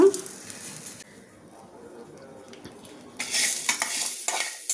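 Whole spices fried all together in a pan for a fish curry (moyya fish pulusu), a stirring scrape and soft sizzle up close, rising to a louder, brighter sizzle near the end.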